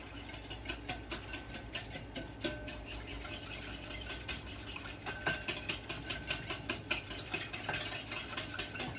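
Small whisk beating bread dough in a bowl. It gives quick, rhythmic clicking and scraping strokes that stay close and steady throughout, with no talk.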